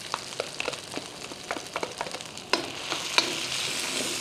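Garlic sautéing in oil in a pan while cooking beef broccoli, a steady close sizzle with occasional stirring scrapes and small pops, no talking.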